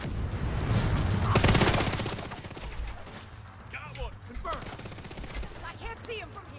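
Gunfire rattles in rapid automatic bursts in The Division 2, loud for the first couple of seconds, then softer scattered shots and game effects follow.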